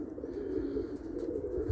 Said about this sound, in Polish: Pokażę te gołębie.